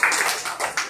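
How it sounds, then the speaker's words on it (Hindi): Children clap in a classroom learning game, a brief burst of a few quick claps close by lasting about a second. "बहुत बढ़िया, तालियां बजाओ।"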